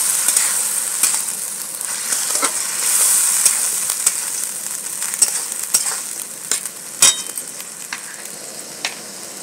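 Tomatoes and green peas frying in a pan give a steady close hiss, broken by irregular sharp clicks and scrapes of stirring throughout.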